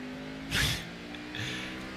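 A race car in a racing video game spinning out, its engine droning with a steady hum while a sharp burst of skidding tire noise rises and fades, then a softer scrub follows.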